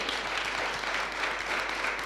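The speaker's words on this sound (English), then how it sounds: "that deserves a round of applause" Audience at a business workshop in Galeshewe applauding, a steady dense wash of clapping filling the whole moment at moderate volume with no talk over it.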